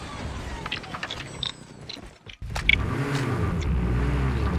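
Jeep engine in Call of Duty Mobile, a steady motor drone that drops out briefly and then returns louder and rising as the vehicle drives off.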